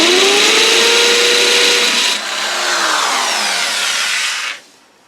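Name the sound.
masonry drill drilling through tiles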